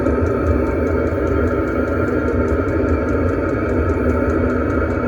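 A Chinese diesel heater runs steadily with a constant low rumbling exhaust drone, loud and unbroken throughout, with no voices.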